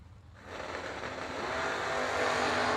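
A 1955 Chevrolet drag car launches at a Christmas bash drag event, its engine noise rising quickly into a loud, sustained roar that builds and holds steady through the run, with no talk over it.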